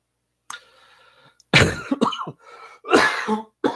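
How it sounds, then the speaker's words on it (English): A few loud, harsh coughs close to the microphone, each a sharp burst, following a softer breathy sound at the start. "I did not mean to cough into the microphone there"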